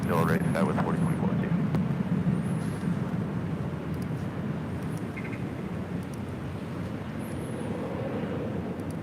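A jet airliner rumbles down runway 24 left at LAX on its takeoff roll, a broad, steady engine roar holding throughout, with radio voices talking over it.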